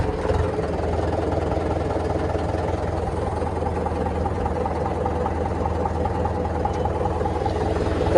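A tractor engine idles steadily and close by on a farm before setting out to fetch maize, a continuous low rumble with no break, alone throughout.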